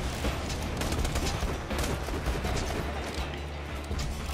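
Dense gunfire in the Borderlands 2 video game, a continuous loud barrage of overlapping shots with no pause across the moment.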